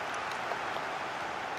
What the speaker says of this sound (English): the crowd are certainly making themselves heard